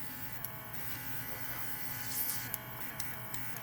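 A portable airbrush compressor runs with a steady, faint electric buzz, with a few small clicks and brief hissing bursts over the hum.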